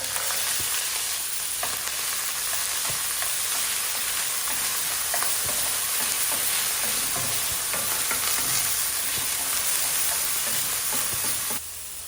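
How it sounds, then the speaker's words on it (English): Canned chickpeas fry in oil in a hot pan with a dense, continuous hiss and crackle and constant stirring scrapes, steady and close for the whole stretch before it drops off at the end. "We're going to add some oil to a hot pan. Let's add in our chickpeas."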